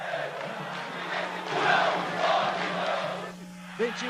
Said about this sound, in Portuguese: O time aquecia, a torcida esquentava.